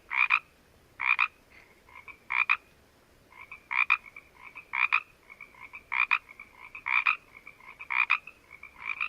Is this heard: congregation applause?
no